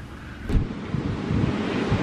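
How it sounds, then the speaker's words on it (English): Waves wash against the Bay of Quinte shore in a continuous broad roar, mixed with gusty wind buffeting the microphone, and no one speaks. "I wanna show you the waves now. It's like insane."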